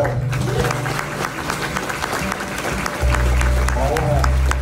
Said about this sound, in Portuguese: Vamos aplaudir Jesus pela vida do Léo.